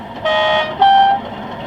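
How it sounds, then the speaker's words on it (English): A sound-fitted OO gauge model Class 37 diesel locomotive sounds its two-tone horn, two steady tones one after the other, each held about half a second over a faint mechanical hum. "Function 9 is two-tone horn."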